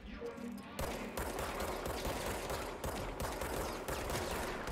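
Enemy gunfire in the game Control, sustained rapid volleys of shots that start abruptly and keep going as a dense, loud fusillade with no talking over it.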